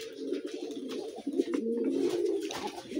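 Pigeons cooing near a homemade pigeon coop, a steady murmur of soft, low throaty coos running throughout, fairly loud and close with overlapping birds and no talk.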